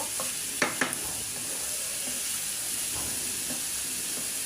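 Dried red chilies fry in hot oil with a continuous bright sizzle and a couple of sharp utensil taps near the start, and no voices.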